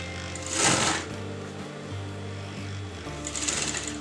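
Sewing machine stitching kurti fabric, a steady low mechanical hum running through the whole clip with two brief louder bursts of whirring near the start and end, no talk.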